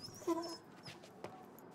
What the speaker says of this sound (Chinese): 哎呦，狗狗。